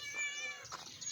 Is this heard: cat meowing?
yes